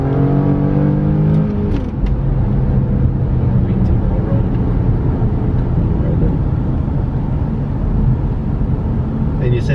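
Widebody Nissan 370Z with an automatic transmission run in manual mode, its engine droning loudly from inside the cabin, with a rising note that drops as it changes gear early on and people talking over it.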